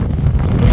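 Strong wind at sea roars steadily against the microphone, with a low rumble and faint wash of water underneath and no break in the noise.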